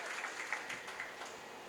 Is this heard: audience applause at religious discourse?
yes